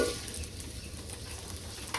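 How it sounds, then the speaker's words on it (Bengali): Onions frying on a stovetop for a fish curry, a soft steady sizzle with faint stirring scrapes, brief and quiet, no voices. "এখন চুলায় যে পেঁয়াজ দিয়ে দিলাম, এই পেঁয়াজগুলো লাল লাল করে ভাইজা"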